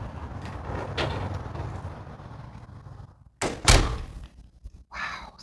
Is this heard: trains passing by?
no